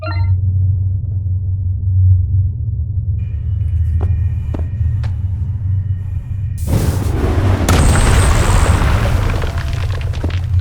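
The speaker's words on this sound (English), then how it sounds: "Place the plastic explosive on this wall, then back up and shoot it with a weapon." A plastic explosive charge blows open a brick wall in the Hollowbody video game: a sudden loud blast bursts over a steady low rumble, then crumbling debris and noisy rubble follow.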